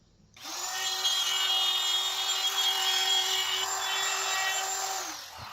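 A wood router fitted with a 1/4 inch upcut spiral bit and a guide bushing spins up and whines steadily for about five seconds, a close, loud, even high-pitched drone that cuts off abruptly.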